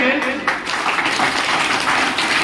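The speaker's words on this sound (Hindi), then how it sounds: "जोरदार तालियां लगे" Audience applause at a school Teacher's Day gathering, a dense, steady wash of many hands clapping for the full stretch without pause, with voices mixed in underneath.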